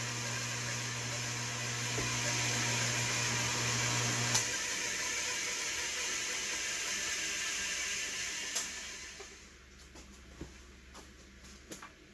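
A Canadian No. 18 drill press, an auction find, runs at its highest speed with a steady, even mechanical whir that fades away near the end, followed by a few small clicks.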